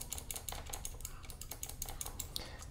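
Rapid, repeated clicking of a Logitech G203 mouse button being cleaned with alcohol for a double-click fault, a quick irregular series of small sharp clicks close by.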